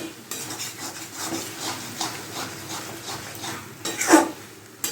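A spoon scrapes and turns banana flower ghonto in a pan as the water cooks off, with soft repeated stirring strokes, light clinks and a faint simmer, and one louder scrape near the end.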